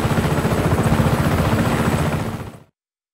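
Helicopter flying in the video game Just Cause 3, a steady loud rotor thump and engine drone that holds for over two seconds, then cuts off abruptly.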